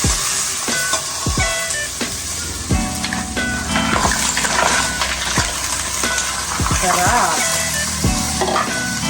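Tahong mussels sautéed in a hot pan produce a loud, steady sizzle broken by repeated utensil clanks and scrapes, with a brief spoken word partway through.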